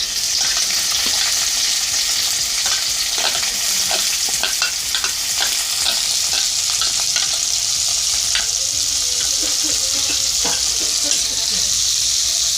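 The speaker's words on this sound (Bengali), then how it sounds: "ওই তেলের মধ্যেই আমি আগে থেকে কষানো পেঁয়াজগুলো ভাজার জন্য" Pre-sautéed onions fry in hot oil for cauliflower curry, a loud steady sizzle broken by the scrape and clatter of a spatula stirring the pan, with no talking.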